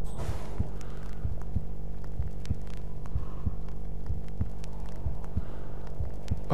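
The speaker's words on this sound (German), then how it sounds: "jetzt hört man den Herzschlag vom Hitman" A steady, heavy heartbeat pulses in a regular rhythm beneath a low droning hum, the game sound of the player character's heartbeat during a tense moment in Hitman: Absolution.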